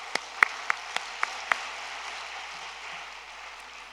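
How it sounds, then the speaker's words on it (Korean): Applause from a Korean conference audience, a few sharp claps at the start that settle into a faint, diffuse patter of clapping from a large room. "박수 한번 쳐주세요."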